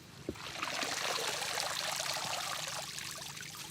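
Dry esparto grass dunked and soaked in water, a steady pouring, trickling wash of liquid that runs continuously close by with a small splash near the start and no talking.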